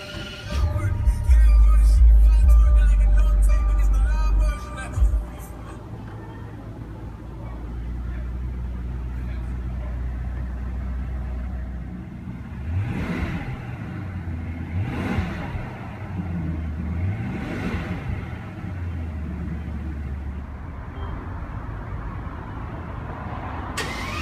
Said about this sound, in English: Now let's jump into the driver's seat, start it up and see how it sounds.